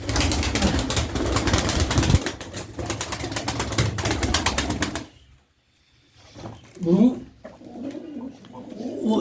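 Pigeons in a loft give a dense, close burst of fluttering wings and cooing, then a short silence, followed by softer calls and movement while voices talk.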